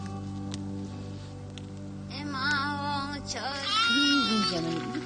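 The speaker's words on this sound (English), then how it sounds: "Oh, my little baby goats." Baby goats bleating at high altitude in Ladakh, several wavering cries close by, rising and falling over a steady patter of rain, with a person talking.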